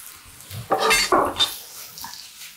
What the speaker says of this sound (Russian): Перемешаем.